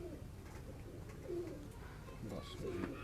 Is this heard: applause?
no